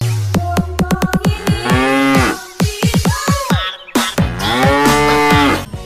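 Calf mooing, cattle of the Limousin breed: repeated loud, drawn-out moos close by, broken up by sharp clicking and knocking sounds, with no talking.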